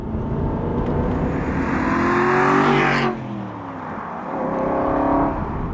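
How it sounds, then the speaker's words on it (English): An Aston Martin V8 Vantage engine revs hard, pitch climbing steadily before dropping off at a gear change, then building again, loud and close. "you need to rev it out, you need to stir that gearbox, you need to blip the throttle"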